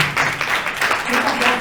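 Audience applause at a book fair literary event, a brief steady wash of clapping with a voice faintly underneath.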